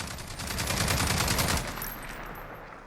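An L86 LSW light support weapon in Call of Duty Modern Warfare fires a rapid automatic burst for about a second and a half, loud and close, then tails off into echo.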